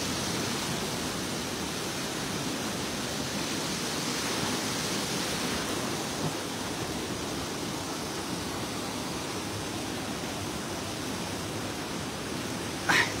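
A strong river current flows steadily for the whole stretch as broad, even rushing noise, close and constant, with no voices over it.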